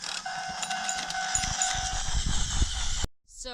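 A Tomy Plarail toy crossing rail sounds its crossing gate signal as a C62 steam locomotive toy train runs over it: a steady electronic ringing tone with overtones and faint mechanical rattles, cutting off abruptly near the end.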